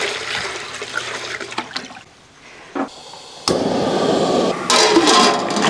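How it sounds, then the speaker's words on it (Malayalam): Water pours into a cooking pot for boiling cauliflower, a loud splashing rush that breaks off briefly and then returns as a steady stream. "ഇനി നമുക്ക് ഈ പാത്രത്തിൻ്റെ അകത്തോട്ട് കുറച്ച് വെള്ളം ഒഴിച്ച് ഇതൊന്ന് തിളപ്പിച്ചെടുക്കണം."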